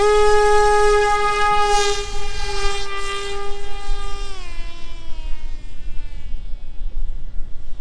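FPV quadcopter motors on a long-range drone spooled up to full throttle, a loud sustained harmonic whine that holds steady and then drops in pitch midway as the revs change, continuing as a broadband buzz.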